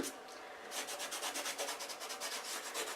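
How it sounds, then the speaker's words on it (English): A finger rubs gold leaf onto a watercolor card, a close, soft scratchy friction in quick repeated back-and-forth strokes that start after a brief pause. "you rub this in, you burnish it in, and your finger is probably the best tool to use"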